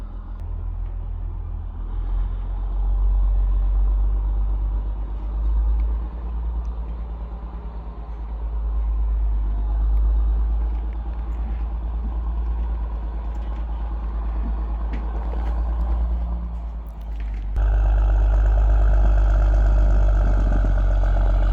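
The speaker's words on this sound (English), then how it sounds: "the tow operator is backing Smokey in from the road" A tow truck's engine idles and rumbles steadily as it slowly backs a car in from the road toward a house carport, with a louder, fuller engine surge near the end.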